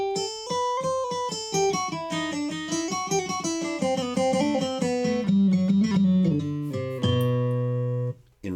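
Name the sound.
AeroBand digital guitar being played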